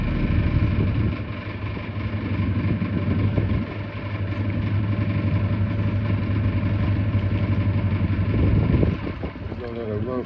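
Boat engine idling close by, a steady low rumble that holds evenly for several seconds with a slight drop and rise near the end, while someone speaks.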